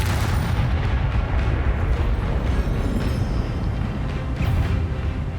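Loud, dense spell-combat effects from the Hogwarts Legacy video game, a continuous rumbling barrage of magical blasts and booms with no gaps, one of them an Expelliarmus disarming spell.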